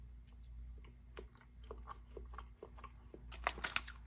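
Dried raisins from a Norwegian Arctic ration being chewed close up, a run of soft, slightly crunchy bites with sharper crackles near the end, over a low steady hum.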